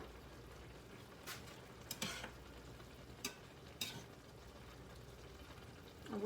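Cowboy pasta sauce simmering in a pan, a low continuous bubbling sizzle with a few sharp clinks of a utensil against the pan, close and fairly quiet, no voices.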